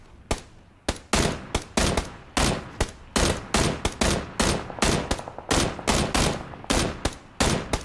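Rapid gunfire from the PUBG battle royale game, a dense run of sharp, loud shots in quick bursts with brief gaps, continuing steadily with no talk over it.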